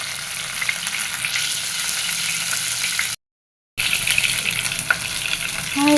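Spices fry in hot oil for a spicy red chicken curry, a steady close sizzle and crackle with occasional stirring. The sound cuts out completely for about half a second midway, then the frying resumes.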